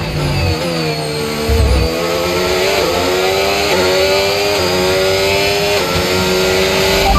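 F1 race car engines scream at close range in F1 25 during a race restart at Shanghai. The loud whine climbs and drops again and again as the cars shift through the gears, and it stays steady throughout.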